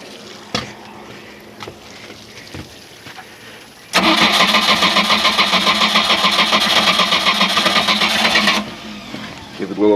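A 3.7L MerCruiser marine engine with no spark trouble cranks and catches, running loud and steady for several seconds before cutting out, with quieter clatter and a voice before and after.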